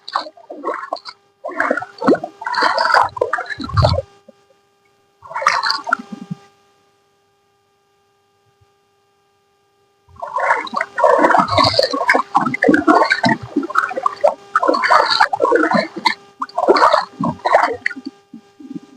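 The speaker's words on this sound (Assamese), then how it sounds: "মই এতিয়া অলপ পানী খেচি যাওঁ।" Footsteps wading through a clear, shallow river near Dirju in Assam make bursts of splashing and sloshing water, with a long quiet gap in the middle before steady churning resumes.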